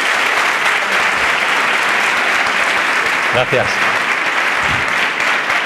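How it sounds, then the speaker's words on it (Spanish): Audience applause at a conference talk in Villamartín, a dense steady clapping that fills the whole stretch, with a brief voice speaking over it near the end. "por eso sí que os quisiera dar que le deis un fuerte aplauso"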